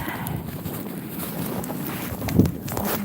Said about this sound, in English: it's getting windy now too, so crazy weather changes